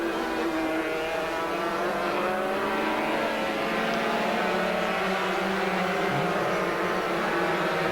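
Racing 250cc motorcycles at Oulton Park during a 1985 British 250cc Championship race, engines whining steadily at high revs from a moderate distance, a continuous buzzing drone with no talk.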